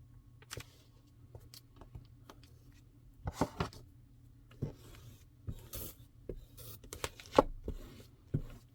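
A paper page is trimmed for a vintage fall collage: intermittent rustling, scraping and crisp cutting noises, close and fairly quiet, in uneven bursts.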